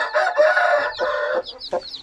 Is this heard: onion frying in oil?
no